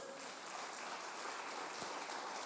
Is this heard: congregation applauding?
yes